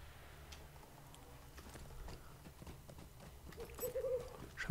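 Horse hooves clop in a steady, fairly quiet rhythm as a rider travels on horseback in the fantasy video game Lord of the Rings Online, with scattered clicks and faint ambient sound around.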